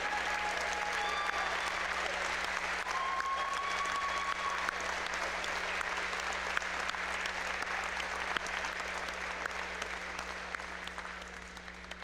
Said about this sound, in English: let's have a round of applause for this courageous group of women